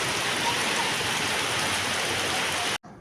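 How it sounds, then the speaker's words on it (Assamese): Heavy downpour pours steadily at a Durga Puja pandal, a dense, even hiss of rain hitting surfaces that fills nearly the whole stretch before cutting off abruptly at the end. "দেখিবলৈ পাইছে পুৰা ধাৰাসাৰ বৰষুণ।"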